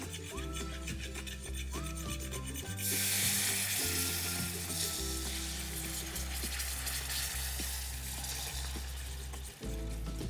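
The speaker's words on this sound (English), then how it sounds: "switch hands because you need to whisk, whisk, whisk while you're adding the milk" Milk whisked into a flour roux in a pan for creamed chipped beef gravy gives a steady, close scraping sizzle that rises after a few seconds and runs continuously over a bed of music.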